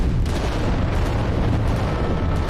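Titan war machines firing heavy weapons in the strategy game Adeptus Titanicus: Dominus, loud, dense, rumbling booms and blasts that overlap into a continuous barrage, with no voices.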